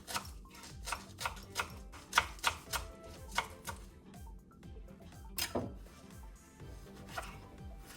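Fenugreek leaves are chopped finely on a board, a quick run of crisp knife taps in an uneven rhythm that pauses briefly before more strokes, close and clear with no talking.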